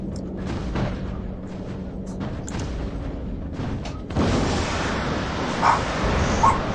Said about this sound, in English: that was the dog barking in there